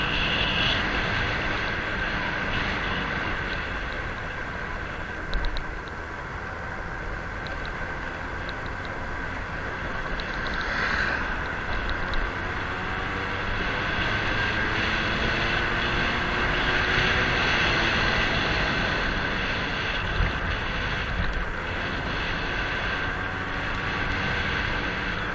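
A Honda Dio scooter rides through a village, its small engine droning steadily and loudly with wind rushing over it for the whole stretch.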